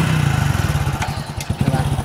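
A Splendor motorcycle engine runs close by with a rapid, even low-pitched putter and a couple of faint clanks over the top.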